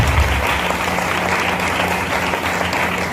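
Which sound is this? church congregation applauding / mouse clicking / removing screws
church congregation applauding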